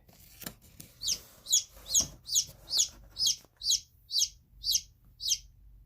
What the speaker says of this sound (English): this is a chicken, an onagadori and silkie hybrid